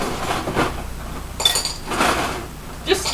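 Ice cubes clink into a bowl in a home kitchen during brownie baking: a few separate bright knocks and rattles, spaced about half a second apart, over low background room noise.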